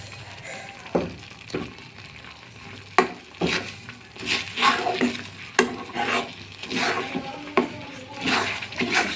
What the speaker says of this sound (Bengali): সমানে নাড়তে হবে নাড়তে নাড়তে পুরো শুকিয়ে ফেলতে হবে